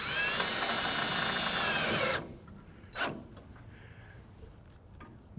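A power driver sinks a small self-tapping screw to mount a bracket on a 1996 Chevrolet truck, giving a loud, steady two-second whir that cuts off abruptly, followed by a single short clunk and quiet handling noises.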